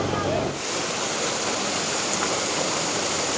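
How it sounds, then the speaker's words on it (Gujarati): A steady, close roar of the Mandakini river flowing at Kedarnath fills the clip after a brief quieter start, a dense, even rush of mountain water with no pauses. "આ મંદાકિની નદી જો"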